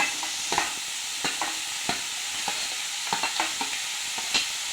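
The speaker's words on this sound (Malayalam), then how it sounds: "നമുക്ക് ചേമ്പൻ താള് ഇട്ട് കൊടുക്കാം." Taro stems stirred in a hot frying pan for a Kerala-style roasted and ground curry: repeated scraping strokes of a spoon in an irregular rhythm over a steady, close sizzle, with no voices.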